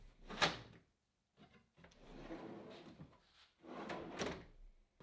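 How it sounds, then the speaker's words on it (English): Drawer on undermount slides being pushed back into a cabinet until the latches click into place, with a close, quiet sharp knock followed by sliding rubs and another knock. "push straight back until you hear the latches click into place"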